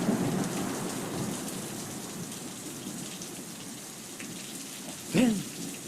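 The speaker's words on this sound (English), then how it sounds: "It began to rain" Steady rain pours through a staged storm effect for a storytelling performance, broad and continuous, with a single loud thunder crack rumbling up near the end.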